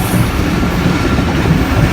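A Pakistan Railways train rolling into Mandir railway station gives a loud, steady rumble of wheels and carriages, a continuous rail roar with faint clatter and no pauses.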